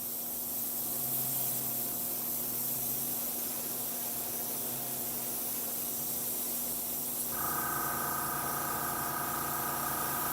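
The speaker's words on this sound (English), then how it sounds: "Air compressor is definitely quieter for you guys." An airbrush blasts a long, even hiss of test spray onto a card, fed by an air compressor whose steady hum runs underneath and shifts to a higher drone near the end.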